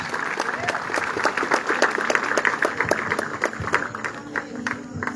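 A church congregation applauds together in a dense, sustained round of clapping with crowd noise mixed in, full and reverberant, with speech-like voices underneath.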